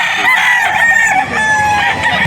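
At a gamecock market in Bocaue, Bulacan, a rooster gives one loud, close crow lasting about two seconds, harsh and strained, with a faint murmur of the market behind it.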